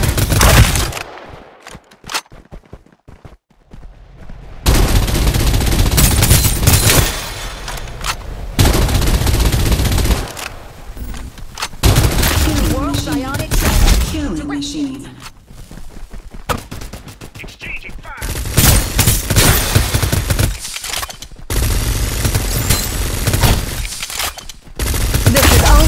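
Rapid bursts of automatic gunfire and booming shots fill a Farlight 84 battle-royale match, loud and close, coming in dense volleys with short lulls between them.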